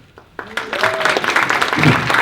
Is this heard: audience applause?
yes